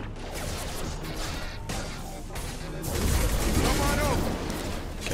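Video game combat with an explosion and gunfire, a dense roaring crash of blasts and shots that swells louder near the end, with game voice lines over it.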